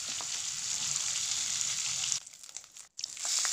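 Fish sizzles in hot oil, a dense steady hiss close by that suddenly thins and briefly drops out near the end before the sizzle returns.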